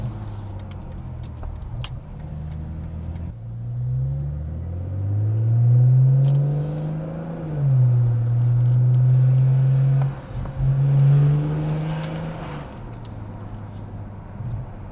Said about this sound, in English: y'all should be able to hear the exhaust